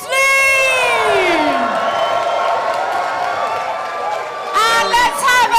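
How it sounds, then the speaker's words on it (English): A chessboxing crowd cheers and applauds the fighters after a technical-knockout win, a loud, sustained roar of voices with high shouts and whoops, swelling again near the end. "let's have a huge round of applause for both our fighters"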